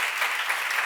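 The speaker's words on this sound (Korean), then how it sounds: "나는 하나님께 속한 자인 걸 믿으시고 박수로 하세요." Brief, dense burst of clapping from a church congregation at a seminar, steady and fairly close, filling the moment without any voices over it.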